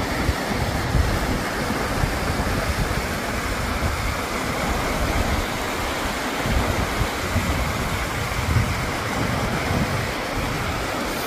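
Rushing water at Cachoeira do Arialdo waterfall in Olaria, Minas Gerais, a steady, loud broadband roar of falling water filling the whole scene without a break, close by, with no voices.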